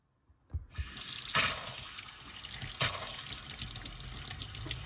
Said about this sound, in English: turn some water on to see how it works